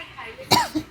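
A single sharp cough bursts out at close range during a casual spicy-food tasting, followed by a softer short vocal sound in an otherwise quiet room.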